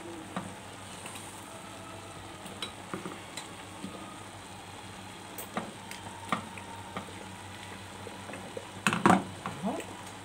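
Crepe batter, made without eggs or milk, sizzles softly in a frying pan on a gas stove, a steady faint frying hiss with occasional clinks of utensils against the pan.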